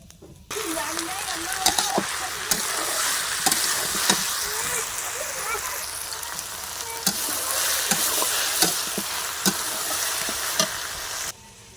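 Okra fries in a pan with a steady, close sizzle, broken by scattered clinks and scrapes of stirring, and a voice speaks faintly underneath.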